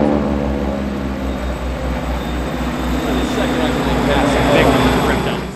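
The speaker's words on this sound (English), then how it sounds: "Four more classic aircraft this time, all 86 Texans from the Aeroshell Aerobatic Team." A formation of four T-6 Texans from the Aeroshell Aerobatic Team flies overhead with a steady, loud radial-engine drone and a low rumble that builds slightly, heard beneath a commentator's voice.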